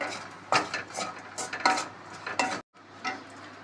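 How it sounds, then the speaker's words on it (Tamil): Radish pickle being stirred in a pan with lemon juice, a utensil scraping and clinking against the metal in several distinct strokes, close and fairly loud with a brief pause near the end. "லெமன் ஜூஸ் புளிஞ்சு நல்லா மிக்ஸ் பண்ணிட வேண்டியதான்"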